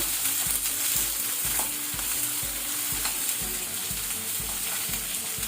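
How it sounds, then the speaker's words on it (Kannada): Chopped onions and green chillies fry in oil for clams sukkha, a loud bright sizzle under rhythmic, regular scraping stirs of a spatula against the pan, close up and without any voices. "ಈಗ ಲೈಟ್ ಕೆಂಪಾಗ ತನಕ ಇದನ್ನು ಎಣ್ಣೆಯಲ್ಲಿ ಫ್ರೈ ಮಾಡಬೇಕು."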